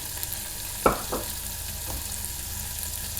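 Almonds hit a hot frying pan with a soft crackling sizzle, brief clattering as they drop in, then a low steady frying hiss.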